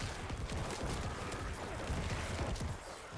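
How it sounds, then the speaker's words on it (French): Necromancer corpse explosions in Diablo 4 crackle and burst in rapid, overlapping blasts, a continuous barrage of thuds and crunches that fades slightly at the end. "Alors l'explosion macabre"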